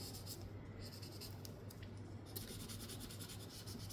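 A light blue marker colours steadily across paper beside a strip of tape, giving a soft, continuous scratchy rubbing throughout with brief strokes, close and quiet.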